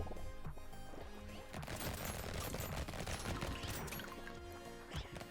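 Two Gatling guns firing continuously in the Brotato video game, a dense rapid stream of shots and impacts layered over game music, steady and fairly faint throughout.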